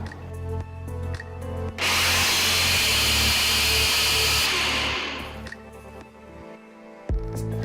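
Mixer grinder grinding grated jaggery with coarse ingredients, a loud harsh whirring burst lasting a few seconds between short motor pulses, close and steady before cutting off.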